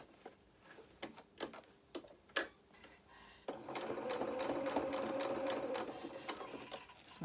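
A home sewing machine stitching a doll's hedgehog head: a few sharp clicks and taps first, then a steady whirring run of stitching that hums on for several seconds, fairly quiet and close.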